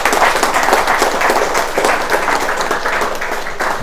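An audience applauds Tuan Haji Jamaluddin Haji Kemariah at a product testimonial talk, a dense, loud burst of clapping that carries on steadily for the whole few seconds.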